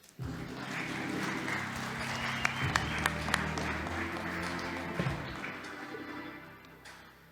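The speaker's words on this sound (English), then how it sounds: "Please continue with the applause." Steady applause from a large audience at a startup founders' pitch competition, continuous clapping with a few sharp claps standing out, fading slightly toward the end.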